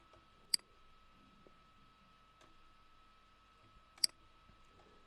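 A computer mouse clicks twice, crisp and close, a few seconds apart, with a fainter tick between them over a quiet steady electronic hum; no talking.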